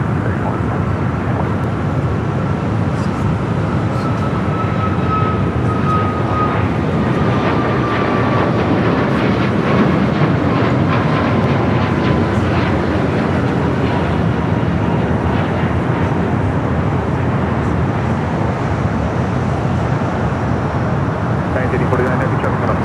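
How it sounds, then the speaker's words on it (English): A Hawaiian Airlines A330 airliner at LAX, a loud continuous roar of jet engines with a faint whine that slowly falls in pitch, over broad airport and traffic rumble, with talk over it. "Looks like that A330 possibly heading up to the north side for a takeoff"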